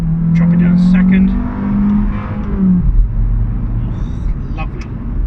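Exhaust of an Abarth 595 Competizione with a 1.4 turbo engine: a loud, close engine drone that falls away as the car shifts down through the gears, then rumbles and rises again under acceleration, with someone speaking over it.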